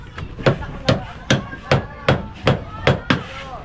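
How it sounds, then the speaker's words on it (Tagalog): Hammer pounding during a radiator repair, with about eight sharp, evenly spaced blows struck close by in a steady rhythm and no talk. "Oh, martilyo, may martilyo kayo?"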